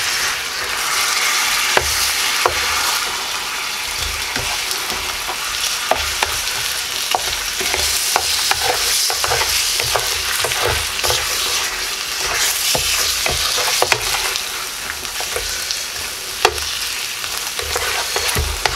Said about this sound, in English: add these pork chops back in here and make sure that they are good and coated